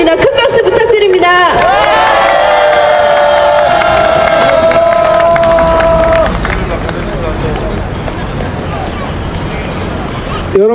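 An outdoor crowd at a general-strike protest rally cheers and applauds loudly, with a strong sustained voice rising over the din before the noise thins into scattered clapping and chatter.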